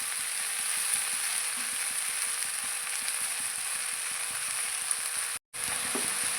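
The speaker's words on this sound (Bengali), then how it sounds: "শাকটা আমি নাড়ছি" Greens and lentil dumplings (bori) fry in a pan, giving a steady sizzle broken by soft, repeated scraping strokes of a stirring spoon. The sound cuts out for a moment near the end.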